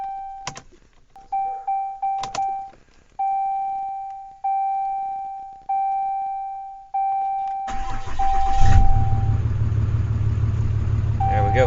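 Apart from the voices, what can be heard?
Ram 6.7L Cummins diesel engine running after fuel priming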